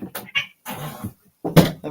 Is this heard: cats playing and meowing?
yes